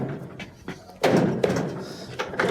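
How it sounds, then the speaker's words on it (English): Several dull knocks on the corners of a dryer's control console as it is pushed back into place during a repair, close and fairly loud, with a heavier thump midway. "give a little knock on each corner to push it back"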